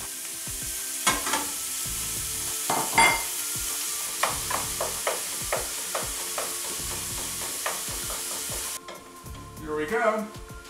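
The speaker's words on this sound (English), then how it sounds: "we're gonna start out first by browning up some of this meat" Ground meat browning in a lightly oiled pan for lasagna, a steady close sizzle punctuated by regular scraping stirs of a spatula, then a brief shift to a softer rustle near the end.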